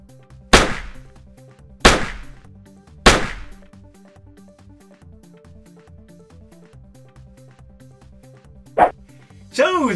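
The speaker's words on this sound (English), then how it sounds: "the addition of a gunshot sound effect completes the illusion" Three sharp, loud gunshot sound effects crack at regular intervals, each with a quick decaying tail, followed later by a fainter single shot and a final burst, all over a low steady musical backing.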